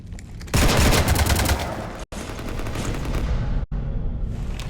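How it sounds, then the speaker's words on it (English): Mass Effect 3 gunfire raking a ship, sustained loud bursts of rapid shots with heavy booming body, broken by two abrupt momentary cutoffs before the barrage resumes. "You want to stop shooting up my ship?"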